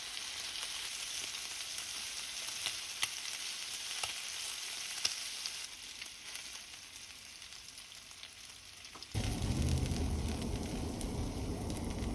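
Korean-style beef short ribs (LA galbi) sizzle steadily in a hot pan without added oil, a dense crackling hiss that suddenly swells louder and heavier near the end.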